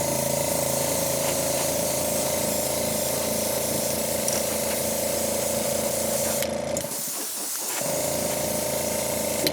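An airbrush sprays Createx transparent bright yellow paint onto a lure in a bumble bee pattern, a steady close hiss with a constant compressor drone, briefly dipping partway through before resuming.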